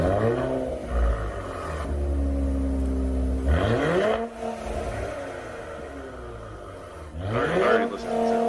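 A Nissan Z engine revs repeatedly through a throaty Borla aftermarket exhaust, pitch climbing and falling in several pulls, loud and close with no talking over it.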